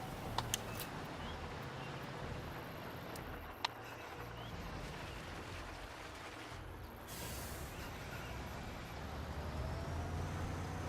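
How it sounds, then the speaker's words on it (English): A heavy construction truck in the Construction Simulator video game rumbles at a low, steady drone as it moves, with a brief hiss like an air brake partway through and a couple of faint clicks. "I'll just move the truck for you."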